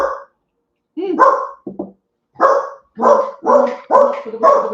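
A dog barks on arriving home: a close, loud series of about six sharp barks with short gaps, the last few coming in quick succession.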